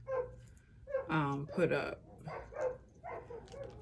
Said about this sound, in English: My neighbors have these dogs. They bark,